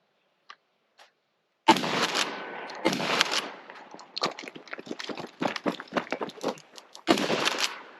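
A Benelli SuperNova Tactical shotgun fires close by in sharp, loud blasts, each ringing briefly, a few spaced shots at first and then a denser run of quicker bangs, followed by a final loud report.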